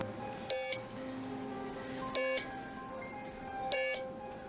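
Electronic device beeping three times at steady intervals, each a short, loud, high-pitched burst over a quiet room background.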